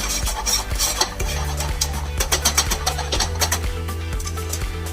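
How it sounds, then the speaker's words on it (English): A spoon stirs creamed spinach seasoned with salt, pepper and nutmeg in a cooking pot. Steady scraping and clinking sounds up close, repeating in a fairly even rhythm over a low background hum, with no talking. "Give it a stir."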